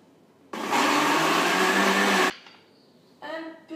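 A blender whirs loudly for about two seconds, mixing a vegetable sauce with olive oil, then cuts off abruptly; a short burst of speech follows.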